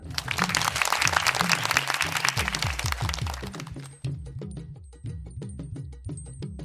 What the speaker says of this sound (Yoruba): Ẹ pàtẹ́wọ́ fún un náà.